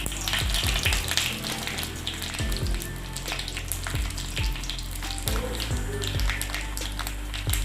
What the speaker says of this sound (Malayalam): അല്പം ഉഴുന്നെടുത്തു മുളകും കൂടെ ഇട്ട് കൊടുക്കാം